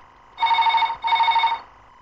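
Telephone ringing on an outgoing call, two long buzzing rings in a row with a short gap between them, clear and alone with no voices.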